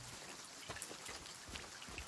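Steady rain falls in the Silent Hill 2 Remake video game, a soft continuous patter of drops with faint scattered splashes, low in level.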